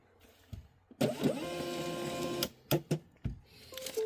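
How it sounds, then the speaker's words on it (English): A label printer feeds out a shipping label in one steady mechanical whir lasting over a second, followed by a few sharp clicks and thumps of handling nearby. "On the label printer."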